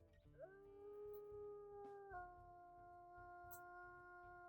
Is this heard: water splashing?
no